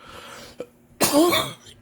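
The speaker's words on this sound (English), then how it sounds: "I really hate my coughs" A single sharp cough bursts out close and loud, preceded by a brief small throat noise, with a quiet pause before it.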